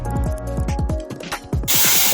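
Ginger, green chili, onion and garlic paste hits hot oil in a pan, giving a loud, steady sizzling hiss with bursts of spattering and faint stirring scrapes.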